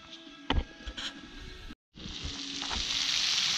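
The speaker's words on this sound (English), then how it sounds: "Bacon's cooking." Bacon fries in a cast iron pan with a continuous close sizzle and crackle. A few light clatters come early, the sound drops out for a moment, then the sizzle returns steadily.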